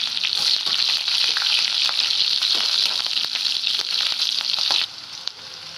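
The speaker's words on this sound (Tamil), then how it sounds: "தாளிக்கிறதுக்கு கடுகு போட்டுக்கலாம், பூண்டு போட்டுக்கலாம்." Mustard seeds, garlic and green and dried chilies sizzle in hot oil for tempering, giving a steady, loud, crackling fry with scattered pops that eases off near the end.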